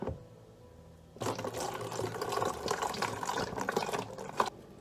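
Homemade mead is poured from one container into another, with a hand held over the opening, making a faint, steady splashing and gurgling stream that starts after a quiet second and runs on, then stops near the end.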